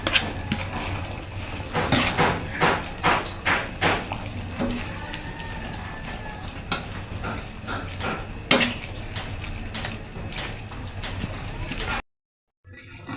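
Malunggay leaves and long chili go into a cooking pot for chicken with malunggay, with clinks and scrapes of a utensil against the pot, a low sizzle underneath, and occasional sharp knocks throughout.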